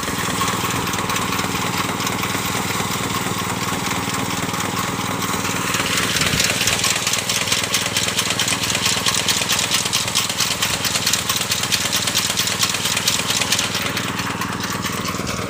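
A rice harvesting machine's engine runs loud and steady at a rice paddy harvest. The rough, continuous mechanical drone rattles and fills the whole stretch with no pause.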